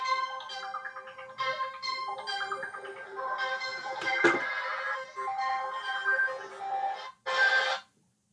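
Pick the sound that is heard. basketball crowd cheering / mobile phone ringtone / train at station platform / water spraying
mobile phone ringtone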